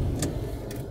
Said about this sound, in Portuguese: Esse barulho é o chaveiro